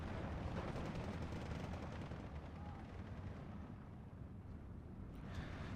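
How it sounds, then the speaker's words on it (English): Bombs dropped by Ju-88 bombers explode in Steel Division 2, a dense rumbling roar of blasts and gunfire that fills the clip, heavy and continuous, with a voice faintly present underneath. "Bombs away."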